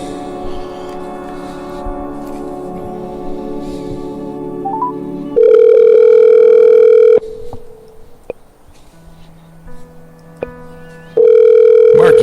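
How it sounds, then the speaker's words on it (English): A telephone line sounds as a call is placed: a steady tone at first, then loud, flat, sustained ringback bursts separated by a quieter gap, with no one talking. "We'll call him real quick."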